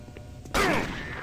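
A sudden loud burst of gunfire in the video game Doom 3, a single sharp blast with a ringing tail that fades over about half a second.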